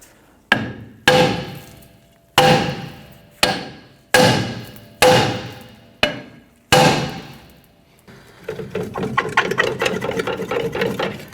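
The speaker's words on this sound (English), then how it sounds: "use a hammer and we're going to strike around the edge of the drum to try and loosen this up" Seven sharp metallic hammer blows ring out one after another at a steady pace around the edge of a stuck rear brake drum on a Chevrolet S10, each decaying with a clang, followed by scraping and rattling.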